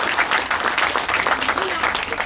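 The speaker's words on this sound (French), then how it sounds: "on peut les applaudir" Dense, steady applause from a crowd gathered at a campaign office opening, welcoming three newborn babies. The clapping stays loud and continuous, with speech heard faintly beneath it.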